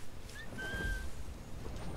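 A character whistles in the Assassin's Creed IV Black Flag video game, a short two-note whistle over steady ambient game background noise.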